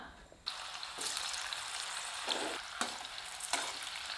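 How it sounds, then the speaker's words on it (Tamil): Par-boiled elephant foot yam frying in a little oil, a steady broadband sizzle with several sharper bursts as pieces are stirred or turned. "முக்கால் பதத்துக்கு வேக வச்ச சேனக்கிழங்குங்க கொஞ்சமாக எண்ணெய் விட்டுருக்கேன் இதில் பொறிச்சு எடுத்துக்கலாம்"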